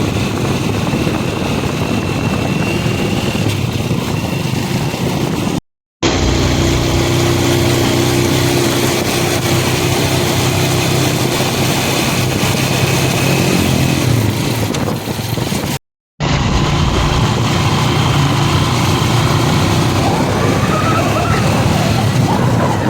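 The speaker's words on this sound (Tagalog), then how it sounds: "Guys, tricycle na tayo." A motorized tricycle engine runs steadily up close on a trip toward a river in Aringay, La Union, with a loud continuous droning rumble broken by two brief cuts.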